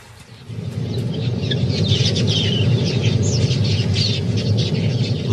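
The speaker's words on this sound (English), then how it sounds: "As they stop by the pool to drink, their busy fluttering at the water's edge" A large flock of quelea birds gathers at a watering pool's edge, producing a dense, continuous wash of chirps and wingbeat fluttering that builds after a quiet start and holds steady throughout.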